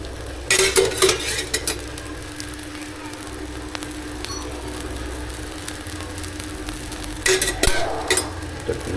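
Dosa cooking on a hot pan at home, with a steady low sizzle and scraping, clinking utensil strokes in bursts near the start and end.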